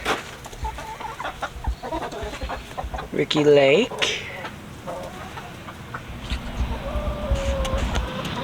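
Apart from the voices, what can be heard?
rooster crowing and clucking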